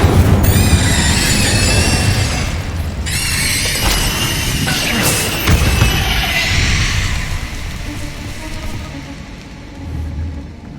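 Explosive spell blasts and crackling magical effects in Hogwarts Legacy, a loud, busy mix of booms, bursts and bright whooshing layered over continuous game sound for the whole stretch.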